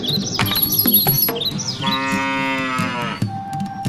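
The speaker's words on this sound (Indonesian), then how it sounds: "dan mereka membeli seekor sapi" A cartoon cow moos once in a long, loud, drawn-out call after a brief stretch of bright musical chirps, with no talking over it.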